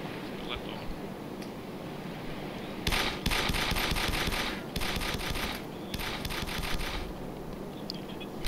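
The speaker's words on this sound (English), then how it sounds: "He's shooting at me." Rapid bursts of automatic gunfire in a DayZ firefight at close range, coming in several loud clusters after a quiet opening, with talking faintly underneath.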